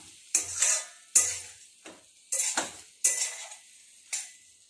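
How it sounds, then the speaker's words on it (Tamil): Country chicken fry masala being stirred in a pan, with a handful of distinct scraping, clinking strokes of a spoon against the metal at uneven intervals, close and clear, each followed by a short fading rattle and faint sizzle. "அதையும் சேர்த்துட்டு நல்லா கிளறி விட்டுருங்க."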